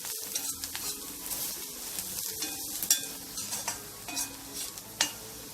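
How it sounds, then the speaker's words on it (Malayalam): Chicken masala and chilli powder fry in a pan while a spoon stirs them into an egg masala: continuous close sizzling broken by scraping strokes and a few sharper clicks against the pan. "നമുക്ക് നല്ലോണം മിക്സ് ആക്കി കൊടുക്കാം"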